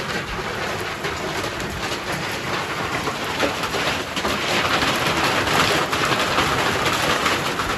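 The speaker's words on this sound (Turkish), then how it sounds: "Köyümüzde yağmur başladı bugün yine." Loud, dense rain pattering steadily on a surface nearby, a constant rushing hiss that swells slightly toward the end, with no speech.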